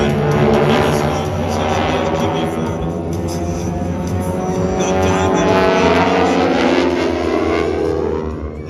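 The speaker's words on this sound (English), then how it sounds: "It's a fantastic trainer airplane and still very much in demand around the world" A 1930s trainer airplane flies at an air show, its engine making a loud, sustained drone that swells and eases as it passes. It carries on steadily for the whole stretch, with no clear voices over it.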